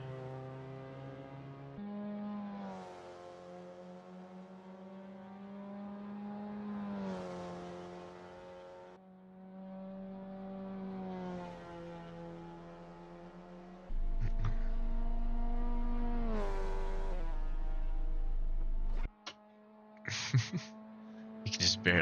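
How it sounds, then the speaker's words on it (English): A Ferrari F2004 Formula One engine roars in a racing video game, rising and falling in pitch several times as the car passes at a distance, under a steady background hum. "You can just barely hear the roar of the F2004 engine every once in a while"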